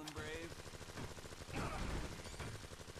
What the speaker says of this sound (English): Just shoot the guns, and you can zone out the Fantastic Four.